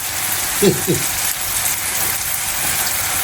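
Onions and curry powder fry in a pan for restaurant-style devilled prawns, giving a steady, close, hissing sizzle. A couple of quick clinks sound early on.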